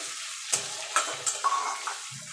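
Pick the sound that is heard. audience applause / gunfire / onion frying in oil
onion frying in oil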